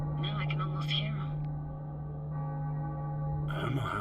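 Cracked bells in the video game Cyberpunk 2077 ring with an eerie, atonal clang over a sustained low drone. Voices are heard alongside, and the sound stays at a moderate level.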